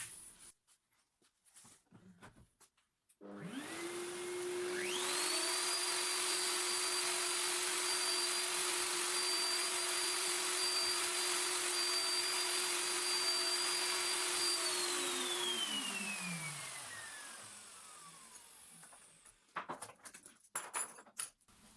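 A wood router runs at high speed cutting an end-grain mortise with a jig on an assembly table. It spins up with a steady high-pitched whine, holds for about ten seconds and then winds down. The sound is loud and close, with no talking.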